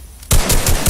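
A burst of rapid automatic gunfire in the video game Fortnite, loud and close, starting abruptly after a brief quiet moment and continuing as a dense rattle.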